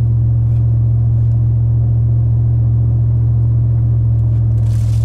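Ram 1500 pickup cruising on a test drive after a wheel speed sensor fix, its steady low engine and road rumble droning continuously from inside the cab, with faint rattles near the end.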